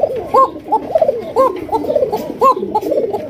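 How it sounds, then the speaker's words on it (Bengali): Sirazi pigeons in a cage give repeated close, loud cooing calls, several overlapping rounded coos in an uneven rhythm with no talking. "এটা হচ্ছে সিরাজি কবুতর"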